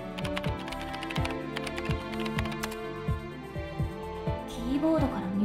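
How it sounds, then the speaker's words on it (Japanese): A character types on a computer keyboard in SD Gundam Battle Alliance: rapid, evenly spaced keystroke clicks run throughout over a soft background tone, and a voice briefly sounds near the end. "キーボードから入力してる。"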